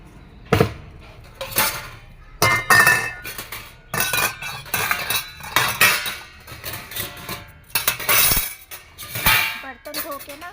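Freshly washed steel dishes, pots and utensils clink and clatter as they are carried indoors from a home washing area, with close, irregular bursts of metallic clanks and rattles throughout.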